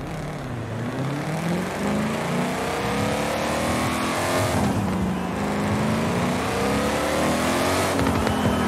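In Forza Horizon 5, a Ford GT500 with a small turbo setup roars continuously and loudly, its engine pitch climbing repeatedly as it pulls through the gears, with no speech over it.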